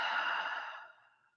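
A slow exhale out through the mouth, a single soft breathy sigh that starts close and fades gradually to silence over about a second.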